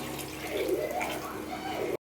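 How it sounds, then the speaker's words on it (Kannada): Water pours steadily into a pot of Mangalore-style sardine sambar, a close, continuous gushing splash lasting about two seconds before stopping abruptly. "ನಾನು ನೀರು ಆ್ಯಡ್ ಮಾಡ್ಕೊತೀನಿ"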